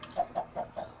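A Minecraft chicken in a modded survival game clucks four times in an even rhythm, each short call clear and close with no talk over it.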